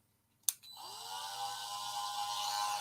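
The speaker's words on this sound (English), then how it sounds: "Now to drill holes in the bottom of the fucking models." A small handheld drill bores holes in the bottom of miniature models, beginning with a sharp click and then spinning up into a steady high whine that keeps going to the end.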